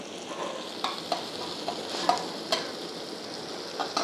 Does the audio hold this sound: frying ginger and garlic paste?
yes